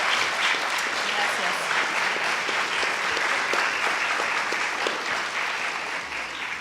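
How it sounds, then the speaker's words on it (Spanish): An audience at a book presentation gives a sustained round of thank-you applause, a dense, even wash of many hands clapping that holds steady for several seconds before easing slightly. "Si se unen conmigo para darle un aplauso de agradecimiento"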